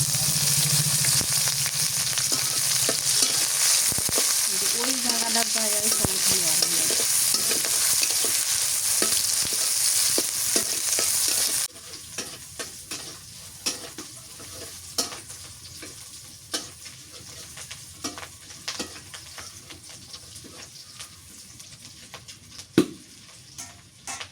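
Chopped onion and green chili hit hot oil in a home kitchen pan, first a loud continuous sizzle, then a quieter crackling fry after about twelve seconds, punctuated by scattered taps and stirring clinks of a utensil.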